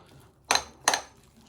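A spoon clinks twice against a bowl while egg filling with homemade mayonnaise is stirred for a meat roll; the two short, close metallic knocks come about a third of a second apart over quiet.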